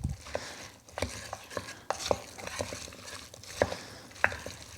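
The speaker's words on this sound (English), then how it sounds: "We're going to give this a quick mix." A spoon mixing marinara sauce ingredients in a crock pot, with repeated scraping, clinking strokes and a soft wet churn close by, continuous with no talking.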